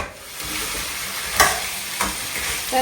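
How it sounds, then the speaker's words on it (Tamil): Crab pieces frying in a pan for a crab fry, a steady sizzling hiss broken by a few sharp spatula scrapes and stirs, close and moderately loud with no talking. "இந்த பக்கம் நண்டு வறுவல் பண்ணிட்டு இருக்கேன்"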